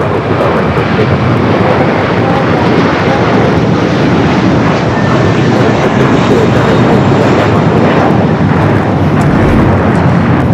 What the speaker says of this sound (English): 777-300ER, now rolling down to 24 left.